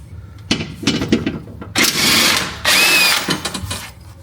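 A power tool working an 18 mm bolt on a BMW X5M during a lowering-spring install: short whirring bursts, then two longer loud runs of about a second each, close by.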